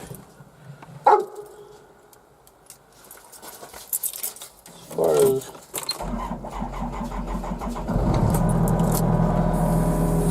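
A used excavator engine, cold and not run in a while, starts and idles low at about six seconds, then a heavier, steady rumble runs to the end, with a dog barking and some talk earlier.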